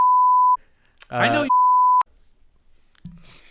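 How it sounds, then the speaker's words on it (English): Censor bleeps covering swearing on a podcast: two steady, loud tones about half a second each, separated by a brief spoken phrase, followed by quieter talk. "You said I'll beep it out."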